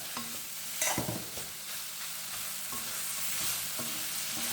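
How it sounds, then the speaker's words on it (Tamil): Onions and tomatoes fry in sesame oil with a steady close sizzle. Spoon scrapes and clinks against the pan come at intervals as the mixture is stirred. "இந்த வெங்காயம் தக்காளி பழத்தில் நல்லா வேகுங்க எண்ணெயிலே"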